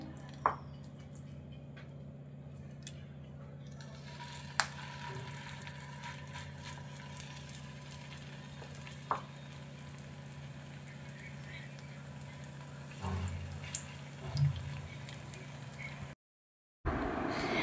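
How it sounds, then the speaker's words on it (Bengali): Pumpkin fritters fry over a low flame in oil in a pan, giving a soft, steady sizzle with occasional drips and pops. A low hum runs underneath, and the sound drops out briefly near the end. "বড়াগুলো সব প্যানের মধ্যে ছেড়ে দিয়েছি এবং এগুলো কম আঁচে ভেজে নেব"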